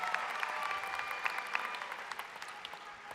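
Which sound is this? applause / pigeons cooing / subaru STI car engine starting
applause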